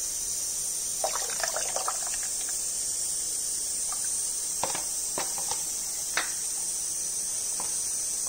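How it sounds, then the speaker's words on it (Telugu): Tamarind water is poured into tomato rasam in a cooking pot, giving soft, intermittent trickles and small splashes over a steady high-pitched background hiss, fairly quiet and close. "దీంట్లోనే కొంచెం చింతపండు పులుసు పోసేస్తాం."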